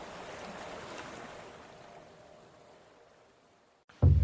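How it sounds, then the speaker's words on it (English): Rippling ocean waves wash around a wooden ship on a foggy night, a steady soft surge that slowly fades toward near silence before a sudden loud low thump at the very end. "it's suddenly broken by the creaking of wooden boards, followed by a rippling of the waves"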